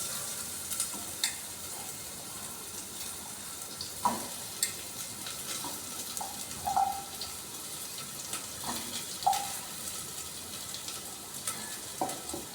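Potatoes frying in a pan of oil during the cooking of a Bengali ol (elephant foot yam) dalna, giving a steady soft sizzle with occasional clinks and stirring scrapes throughout.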